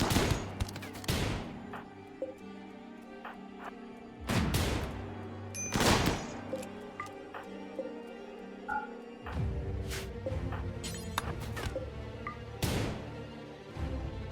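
Rapid sniper rifle shots from a RimWorld battle crack out loud and close, in sharp bursts with brief gaps, some clustered into quick volleys over a steady game background.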